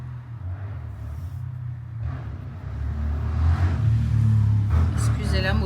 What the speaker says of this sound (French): Excusez la moto.